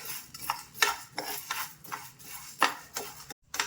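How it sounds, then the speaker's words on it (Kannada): Coriander seeds and urad dal dry-roasting in a pan, heard as a quick series of sharp clinks and scrapes from a metal spoon, fairly close and moderately loud, with no oil sizzle. "ಈ ಮೂರನ್ನು ಒಟ್ಟಿಗೆ ಹಿಂಗೆ ಹುರ್ಕೋಬೇಕು"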